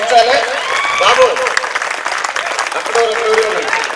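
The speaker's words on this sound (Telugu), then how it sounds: "విద్యార్థులందరూ కూడా గట్టిగా 3 క్లాప్స్ తోటి మనం ఆహ్వానించాలి" Students clapping to welcome a guest at a retirement ceremony, a burst of applause heard close with a voice speaking over it.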